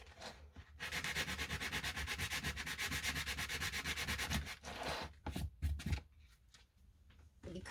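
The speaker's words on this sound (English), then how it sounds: "So I just sand it down." A popsicle stick frame is sanded down by hand with steady, rhythmic rubbing strokes for several seconds, then a few scattered strokes follow. The rasping is close and fairly loud with no voices.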